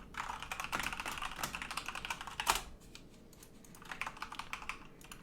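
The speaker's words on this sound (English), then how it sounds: "Excuse my typing." Rapid keystrokes clatter on a computer keyboard, close and continuous with a brief pause before typing resumes.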